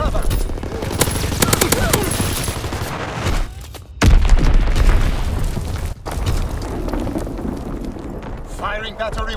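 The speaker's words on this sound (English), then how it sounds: "Enemy bomb incoming! Get to cover!" Enemy bombs exploding amid gunfire in Call of Duty: WWII, heavy booming blasts with a sudden loud impact midway, set against constant rattling machine-gun fire and close shots, with voices shouting over the chaos.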